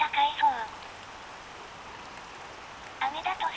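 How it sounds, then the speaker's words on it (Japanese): Steady rain falls in Ōma, Aomori, during a bicycle trip, giving a constant soft hiss throughout, with a person speaking briefly at the start and again at the end. "雨だと涼しいからいいな。"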